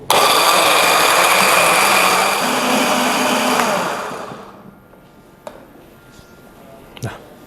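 A blender grinds a spice paste of garlic and candlenut with a little water in a loud, steady whir. The motor winds down and stops partway through, leaving quiet room tone and a couple of sharp clicks.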